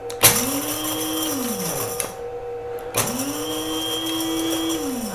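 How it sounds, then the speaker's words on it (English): Gatton CNC spindle motor grinding coffee beans, a steady mechanical whir that rises and falls in two long cycles with brief clicks at each start, close and continuous with no talk. "We just ground coffee with our Gatton CNC."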